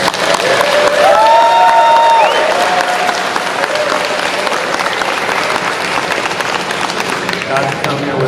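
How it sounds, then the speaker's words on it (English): Audience applause at a bike show, a dense, steady wash of clapping that holds loud through the whole stretch, with a voice briefly heard over it near the start. "I want to give them a round of applause."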